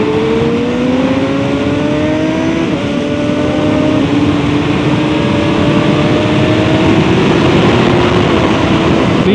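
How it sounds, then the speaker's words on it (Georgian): A Kawasaki Ninja motorcycle engine under way, loud and close, droning steadily with pitch climbing through the gears and a quick shift break early on; no voices. "მე თავიდან ვაბრალებდი მაგას ინტერკომს და მე მივხვდი რომ ძრავის ხმა"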